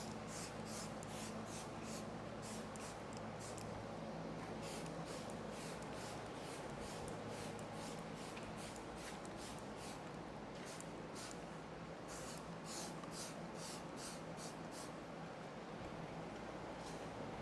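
Koch Chemie bug splatter remover is sprayed onto a car in a long run of short, regular trigger-sprayer bursts, each a brief airy hiss, heard close over a low steady background hum.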